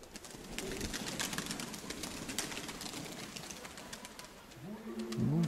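Domestic pigeons coo faintly against a steady outdoor background at a pigeon keepers' loft, with soft, low calls swelling toward the end.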